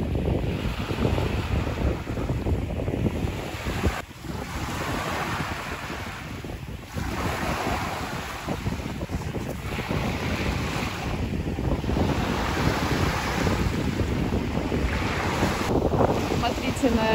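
Ocean bay surf rolling and washing ashore in repeated swells, with strong wind buffeting the microphone throughout, loud and continuous outdoors with no talk.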